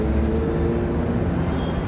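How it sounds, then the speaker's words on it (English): Steady, loud traffic rumble from cars at a street intersection in Lower Manhattan's Greenwich Village, a continuous roadway drone with no distinct horns or voices. "We got 3 cars in the intersection."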